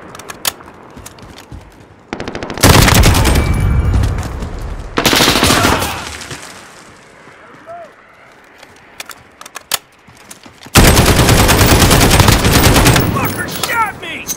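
Bursts of automatic gunfire rattle in Call of Duty: Modern Warfare, loud sustained volleys broken by quieter gaps with scattered single shots and game effects; a voice talks briefly between the bursts.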